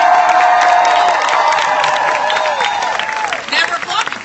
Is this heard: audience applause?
yes